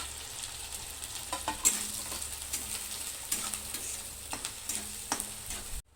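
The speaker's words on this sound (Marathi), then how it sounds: "तेल गरम झालेलं आहे, तर मी आता बारीक चिरलेला कांदा टाकते। सोनेरी कलर येईपर्यंत ह्याला परतून घेते कांद्याला।" Finely chopped onion frying in hot oil for egg bhurji, a steady close sizzle broken by regular scrapes and stirs of a spatula against the pan.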